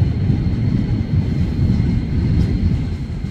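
A KRL commuter train of 12 cars rumbling into Gondangdia station in Jakarta, with a steady heavy low roar and rolling noise close by and no clear announcement over it.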